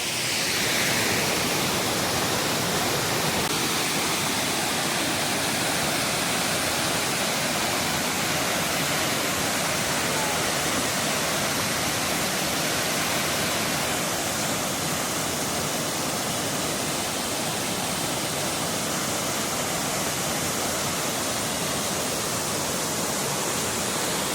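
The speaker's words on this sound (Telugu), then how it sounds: "పైనుంచి పడే వాటర్ అయితే ఈ ఫోన్ మీద సేమ్ టు సేమ్ ఫోన్ మీద పడిపోతుంది" Water plunges steadily from above at the Mettuguda waterfall near Seethampeta, a loud, continuous broadband roar that stays close and unbroken throughout.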